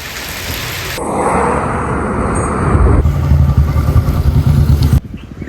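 Rain falls in a village during the rainy season, a loud steady hiss with low rumbling underneath, broken by abrupt cuts between stretches of downpour.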